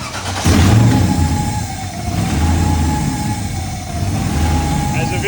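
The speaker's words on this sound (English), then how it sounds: "First time with the exhaust on." A Pontiac Firebird idles steadily with its newly fitted exhaust, a loud, close engine rumble that swells slightly a couple of times while people talk nearby.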